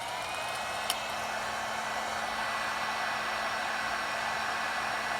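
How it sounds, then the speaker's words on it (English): A heat gun blows hot air onto a paint chip touch-up, giving a steady, close, continuous airy whoosh that holds evenly throughout with no talking. "Take your heat gun."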